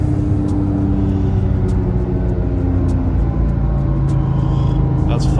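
A 2004 Porsche GT3 engine pulls steadily under acceleration, with a loud, continuous low drone that rises slightly in pitch, heard from inside the car along with road rumble.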